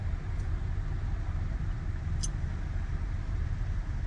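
Heavy road traffic in Sharjah on the way to the office, a continuous low engine rumble and road noise that holds steady throughout, with no voices.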